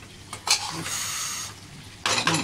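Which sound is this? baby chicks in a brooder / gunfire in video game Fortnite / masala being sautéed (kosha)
masala being sautéed (kosha)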